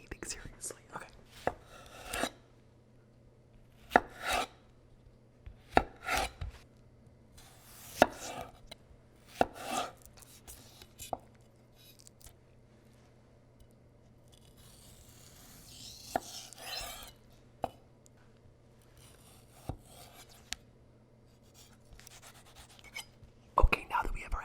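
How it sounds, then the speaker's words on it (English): Crisp knife cuts through an aloe vera leaf, a series of sharp close chops spaced irregularly, with faint whispering and soft rustling between strokes. "I'm gonna cut my aloe vera"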